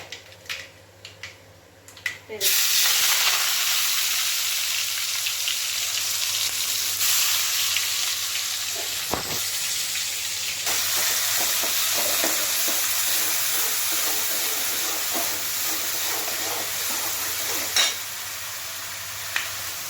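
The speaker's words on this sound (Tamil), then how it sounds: "கடுகும் வெந்தயம் மட்டும் போட்டுக்கோங்க எண்ணெய் காய்ஞ்சதுக்கப்புறம்" Mustard seeds, fenugreek and curry leaves hit hot oil for rasam, setting off a loud, steady, close hiss of sizzling and crackling that holds for the rest of the stretch after a few soft clicks at the start.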